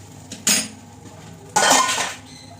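A frying pan clanks and scrapes twice, two sharp metallic bursts about a second apart, close by in a quiet kitchen, no speech.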